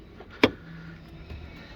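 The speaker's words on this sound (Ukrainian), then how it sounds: "Дзеркала складаються." Electric side mirrors folding on a 2019 Renault Megane 4 Limited, heard as a single sharp mechanical click followed by a faint motor whir, fairly close and on its own with no talk.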